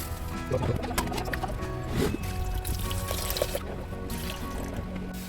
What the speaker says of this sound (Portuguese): Vamos lavar para tirar um pouco do sal.